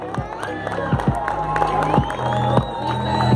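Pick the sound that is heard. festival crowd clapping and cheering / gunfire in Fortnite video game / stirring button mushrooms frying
festival crowd clapping and cheering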